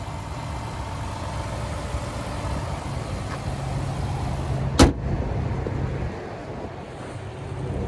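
A 2014 Lexus GS350 F Sport's 3.5 liter V6 idles with a steady low hum under breezy wind noise, broken by a single sharp click partway through.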